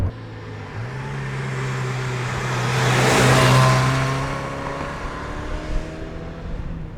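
A 1991 Mazda Miata with the NA6 chassis and small engine is driven hard around corners, its engine note climbing and falling as it revs and shifts, steady and close throughout with no talking.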